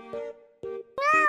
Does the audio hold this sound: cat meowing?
yes